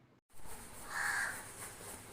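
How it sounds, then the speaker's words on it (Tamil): A crow gives one drawn-out caw outdoors at a house, heard faintly at a distance over steady background hiss. "இது பாருங்க, ஒரு காக்கா"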